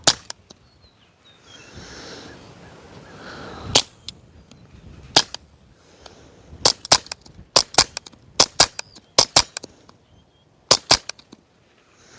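Suppressed Ruger Mark IV pistol fired into dirt, a series of sharp, clipped reports spaced irregularly, a few isolated shots followed by a quicker cluster of close, fairly loud snaps, with quiet background between them.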